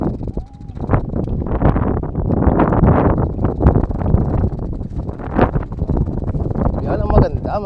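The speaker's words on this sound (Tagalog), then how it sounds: "Yan ang maganda, mahangin." Strong wind buffets the microphone in a steady, roaring rush outdoors on a ridge in Pangasinan, Philippines, during a bikepacking trip, with people talking over it.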